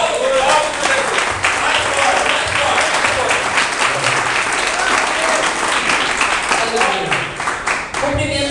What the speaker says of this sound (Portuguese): Vamos receber a pastora uma salva de palmas.